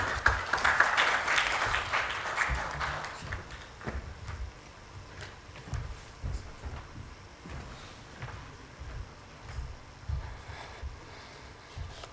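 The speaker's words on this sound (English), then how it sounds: "A big round of applause for him." A security summit audience gives a round of applause, loud clapping at first that fades into scattered claps and low room noise over about twelve seconds.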